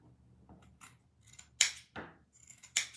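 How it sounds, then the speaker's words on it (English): Scissors snip at a yarn pom-pom being trimmed into a compact ball for a gift bow, with several crisp, close cuts spaced across a quiet background. "Trim it up a little bit more."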